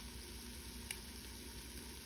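Vegetables sautéing together for a homemade pot roast give off a faint, steady sizzle, a soft continuous hiss that holds evenly throughout with one small tap near the middle.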